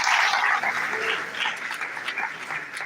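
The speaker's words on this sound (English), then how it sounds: "A round of applause, please." Audience applause for a lecturer being introduced at an academic society event, a steady wash of clapping that starts loud and gradually thins out over a few seconds.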